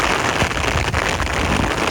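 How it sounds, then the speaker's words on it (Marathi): Rain falls steadily in the Konkan countryside, a dense hissing patter spread evenly across the scene with faint scattered drops, loud and continuous with no voices. "फायनली आता वाईट परत जरा एकादशी असल्या कारणानं पाऊस पडायला लागला."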